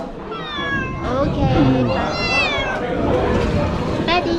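A cat meows repeatedly in a dark, electricity-free spot in Khao Sok National Park, Thailand, its wavering cries close and clear over ongoing human chatter.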